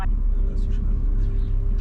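Heavy Easter holiday road traffic passes a motorhome site near Castellón, a loud, continuous low rumble of vehicles close by with no clear break.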